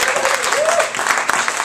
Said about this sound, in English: Give it up for yourselves